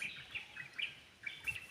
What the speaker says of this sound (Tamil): இங்க வந்து செம்ம அமைதியா ஒரு பறவைங்க சத்தம் மட்டும்தான் கேக்குது.